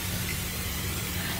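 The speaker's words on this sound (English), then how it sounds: "Now I'm gonna spray them with my oil." Cooking oil sprays in a steady, continuous hiss over fish fillets and fries spread out for cooking, a close and fairly soft burst lasting the whole moment with no voices.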